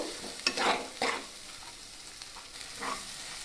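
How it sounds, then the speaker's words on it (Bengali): Ground cumin, chili powder and turmeric stir-fried in oil for a green banana kofta curry, with a few soft sizzling bursts and spoon scrapes early on, then a quieter hiss, close and fairly faint. "সমস্ত মশলা দিয়ে আমি হালকা করে এইভাবে নাড়াচাড়া করে নেব। মশলাগুলোকে আমি এইভাবে হালকা করে ভেজে নেব।"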